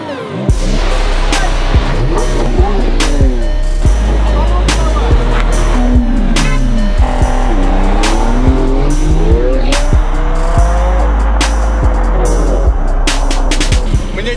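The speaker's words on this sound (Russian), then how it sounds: "Ребят, сейчас будет самая жесткая гонка." Lamborghini cars race with revving engines rising and falling in pitch, tires squealing and skidding, loud and close, with voices talking in between.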